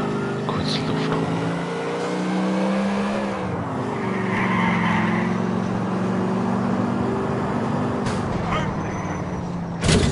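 Cars in the video game GTA 4 drive with a steady engine drone and drawn-out tire skids, with a voice talking over the game sound throughout.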